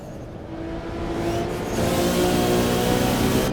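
A car engine in the Assetto Corsa racing game builds revs steadily, its loud, tonal drone climbing and thickening over a few seconds with no talking over it.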